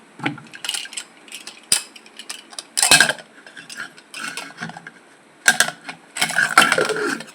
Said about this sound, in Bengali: এবারে কুকারে মুখটা বন্ধ করে ঢাকনাটা বন্ধ করে দিলাম